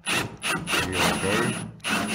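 A 32mm drill bit cuts a shallow recess into a wooden door, giving a close, rough grinding that comes in three or four short bursts with brief breaks between them.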